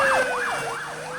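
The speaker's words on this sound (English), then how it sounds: "That is loud. It is an ambulance." An Australian ambulance siren wails loud and close, its tone sweeping up and down in a repeating cycle for the whole stretch.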